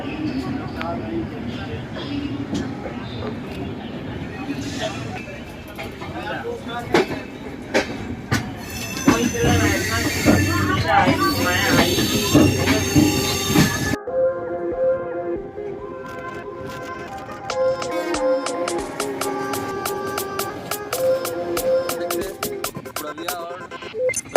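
The 12562 express train departs from a station at night, its wheels rolling and clattering with screeching metallic squeals and rhythmic clicks, loud and close, with a voice talking over the opening stretch.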